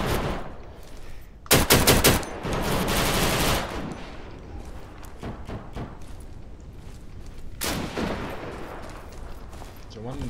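Machine gun bursts in the video game Deadside rattle in rapid volleys, with a loud sustained burst early and another later, separated by quieter scattered shots and ambient noise.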